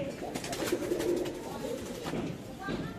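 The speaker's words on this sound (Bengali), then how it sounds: "এখানে ভালো ভালো কবুতর আছে" Racing pigeons at the Narsingdi market cooing in a soft continuous low murmur, fairly faint amid crowd noise and background voices.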